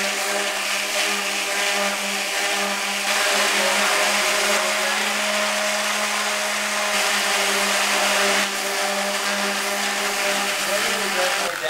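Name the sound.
150 grit orbital sander sanding a CNC breadboard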